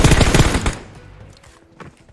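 A burst of rapid gunfire from a PUBG Mobile match, loud and dense for under a second, then decaying into faint echoes and a few distant shots.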